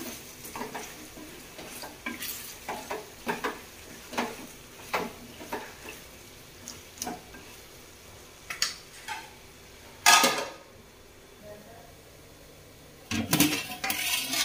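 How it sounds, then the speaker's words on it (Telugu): A spoon stirs chicken pulao in a cooking pot, giving repeated scraping clinks against the metal at an uneven rhythm over a faint sizzle, with two louder clanks near the end. "ఇప్పుడు చక్కగా కలిపేసుకొని ఇంకాస్త మగ్గించుకుందాం"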